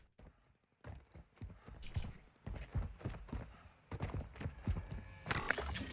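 Footsteps in the video game Warzone 2.0, a run of quiet, irregular thuds and scuffs spaced through the moment, ending in a louder clatter.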